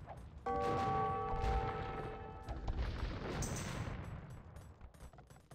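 Bombard cannons and other units firing in Age of Empires, a dense burst of booming explosive shots and crashes layered over battle clatter, loud and continuous.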